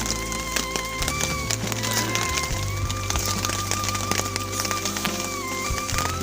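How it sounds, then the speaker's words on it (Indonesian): Steady rain falls on a mountain trail, a dense pattering hiss with scattered close drips and taps, continuing without pause under a faint low rumble. "Dari tadi cuacanya hujan gak berhenti-berhenti sampai ini."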